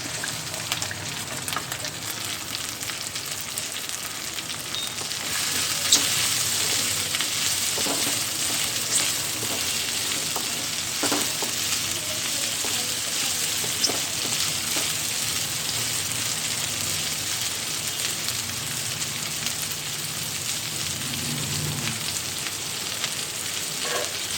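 Okra pieces fry in hot oil with ginger garlic paste for Andhra-style pulusu, giving a steady, close, loud sizzle throughout with occasional stirring clicks and faint scrapes, and no talking.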